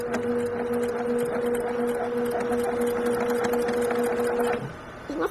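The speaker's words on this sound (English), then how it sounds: "I'm going to do about 3 stitches forward," A sewing machine stitching a fitted fabric face mask, a steady close humming whir with a regular ticking needle rhythm for several seconds before it stops, ending in faint handling noise.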